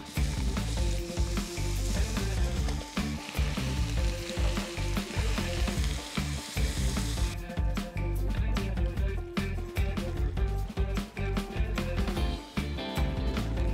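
Hokkien laksa sauce for a spaghetti fusion pasta sizzles and simmers steadily in a pot, a loud, continuous frying hiss with occasional stirring clatter and no talking.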